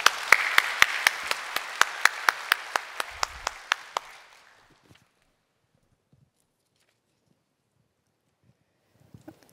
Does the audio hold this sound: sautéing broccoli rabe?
no